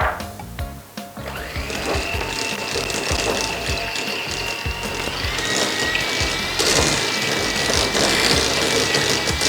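An electric mixer churns egg yolks into lemon cookie dough, a steady mechanical whir with rhythmic clicking beats that shifts pitch partway through, close and continuous with no talk.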